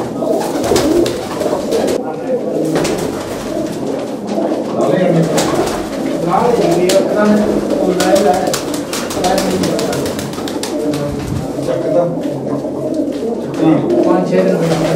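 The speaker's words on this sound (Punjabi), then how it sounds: "ਵੱਡਾ ਕਬੂਤਰ ਹੈ ਜੀ ਇਹ" Pigeons at a pigeon-keeping loft coo in low, throaty rolling calls that repeat through the clip, close and fairly loud, with someone talking over them.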